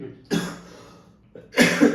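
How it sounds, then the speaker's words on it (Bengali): Two close, sharp coughs, the second longer and harsher, separated by about a second of near silence. "সরি আমার কাশি হচ্ছে"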